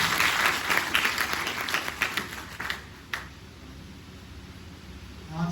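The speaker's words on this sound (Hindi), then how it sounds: "सभी स्टूडेंट सर का तालियों से स्वागत करेंगे" Students at a college event for National Legal Services Day clap to welcome a guest onto the stage, a lively burst of applause for about three seconds that thins out into scattered claps and then near quiet.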